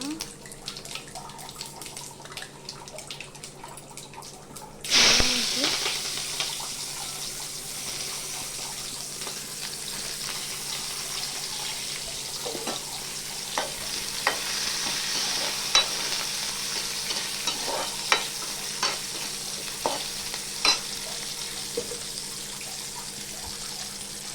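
Mustard seeds and cumin frying in hot oil for a fish curry, a steady close sizzle that starts abruptly and keeps crackling with scattered small pops, with no voices.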